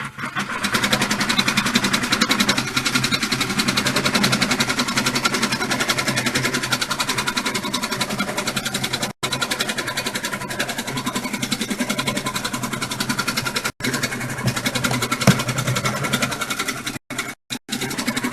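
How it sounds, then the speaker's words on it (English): An embroidery machine runs fabric placement stitching on an in-the-hoop bib, a steady rapid mechanical chatter of the needle close by, continuous for the whole stretch with a few brief stops and no talking. "you are going to run your first color, and this is the fabric placement stitching"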